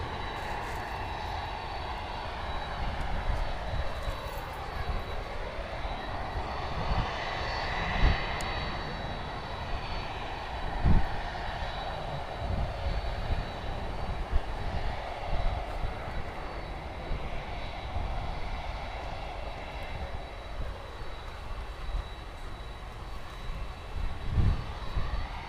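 An ITA Airways jet arriving from Rome lands at Miami airport, a steady broadband engine roar that holds at moderate distance for the whole stretch with faint swells and no voices.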